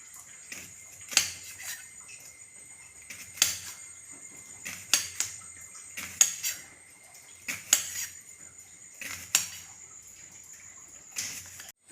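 Knife chopping raw banana into thin pieces for chips, a series of about nine crisp sharp cuts spaced at irregular intervals, close and clear against a quiet background.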